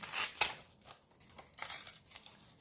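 A book page is torn by hand in a few short ripping strokes with brief crinkles and pauses between them, close and fairly quiet, with no talking.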